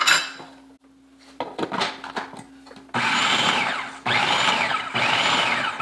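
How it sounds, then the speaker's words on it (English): A food processor pulses a grainy dough mixture in three loud, steady bursts, each running about a second with brief gaps between, after some lighter clinks and handling noises. "we're going to pulse it some more until this mixture is grainy with some pea-sized chunks in it"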